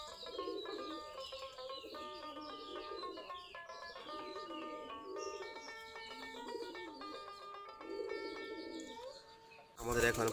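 Native Giribaz pigeons coo in soft, repeated throaty phrases near a loft, with overlapping calls and light chirps continuing steadily, closely recorded before a brief louder noise at the end.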